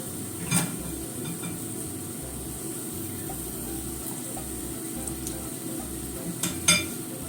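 Mochi frying in a pan gives a steady low sizzle with occasional light clicks and scrapes of a utensil against the pan, close and fairly quiet throughout.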